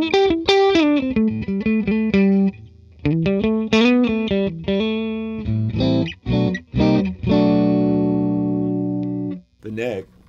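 PRS Special 22 electric guitar in the number four pickup position, choppy bursts of picked notes and chords with short gaps between phrases and a longer ringing chord near the end, played alone up close.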